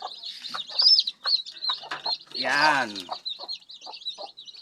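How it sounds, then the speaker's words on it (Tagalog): Native chickens penned outdoors give soft repeated clucks with one longer squawking call in the middle, close by, while someone talks between the sounds. "Yan ang ating mga alagang native chicken, guys."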